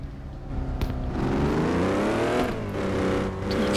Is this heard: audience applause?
no